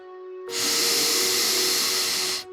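A single long, steady inhalation during a guided relaxation exercise, a breathy rush of air lasting about two seconds, close and fairly loud against a quiet background.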